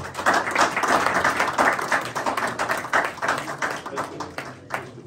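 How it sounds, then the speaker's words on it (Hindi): Audience clapping at a Saraiki poetry book launch ceremony, a brief, moderately loud patter of hands in an indoor gathering with faint voices underneath. "एक ताली चमाओ यार"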